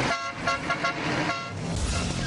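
A car horn sounds amid road traffic, with engines rumbling and a blaring honk standing out over the noise.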